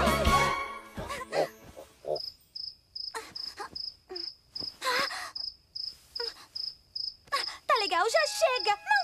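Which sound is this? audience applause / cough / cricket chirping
cricket chirping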